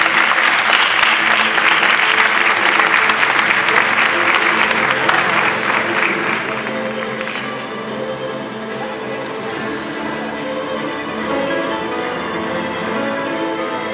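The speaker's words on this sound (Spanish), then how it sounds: "Sí, aplaudan para mí" Audience at the Miss Fotogénica Andaluza 2015 pageant breaks into loud, dense applause that gradually thins and softens, with music or voices carrying on underneath as it fades.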